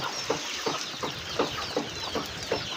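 Chickens cluck in a steady series of short, repeated calls, moderately close, over a constant hiss of rain in a countryside farmyard.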